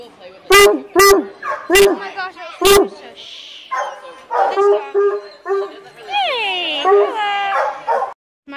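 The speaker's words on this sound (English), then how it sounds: "Might be the dog." A young puppy gives several sharp, close yips and barks, then whimpers and a whining howl, mixed with people talking excitedly nearby.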